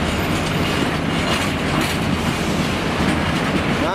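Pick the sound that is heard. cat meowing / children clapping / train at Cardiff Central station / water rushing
train at Cardiff Central station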